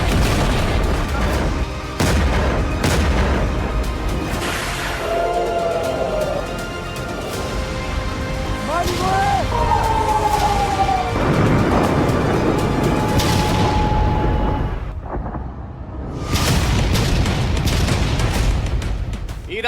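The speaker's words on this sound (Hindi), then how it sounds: "एक पल में धमाकों से गूंज उठा समूचा रियाद का ऑयल रिफाइनरी इलाका।" Explosions hit an oil refinery area in Riyadh: deep booms and rumbling blasts, some loud and close, mixed with sweeping tonal sounds over a dense, continuous background.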